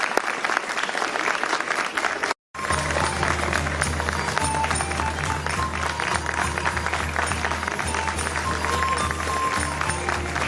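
An audience at the Valencian miracle play "La dona endimoniada" in 2019, at the Altar del Mercat de Colón, claps loudly and continuously, with dense, sustained applause apart from one very short break.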